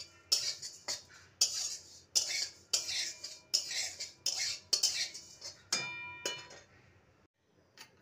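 Oats dry-roasting on low to medium heat in a pan, stirred with a metal spoon that scrapes and clinks against the pan in repeated short bursts, up close, with no talking.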